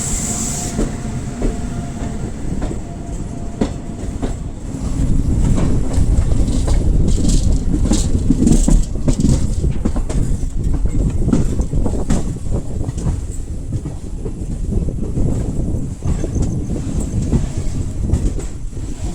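The Latur–Mumbai Superfast Express (22108) rolls steadily along the rails, heard from inside as a loud continuous rumble with faint clickety-clack, swelling slightly partway through and carrying on without talk.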